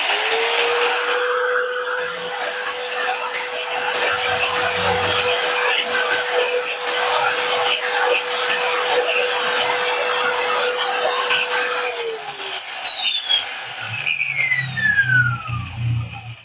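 A Maktec MT90 power tool runs at full speed for a steady high whine with an airy rush, holding constant for about twelve seconds before switching off and spinning down with a falling pitch.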